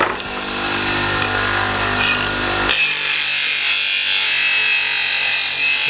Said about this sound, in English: that typically is how long it takes to sharpen the tool